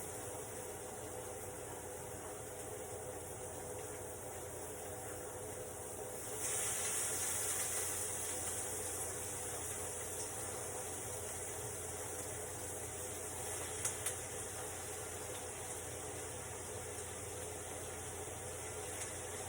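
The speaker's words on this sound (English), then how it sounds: "we're going to fry it in this butter for just a minute" Chopped green pepper sizzles softly in butter in a pan, a faint, steady hiss over low kitchen hum that swells a little partway through and stays even after.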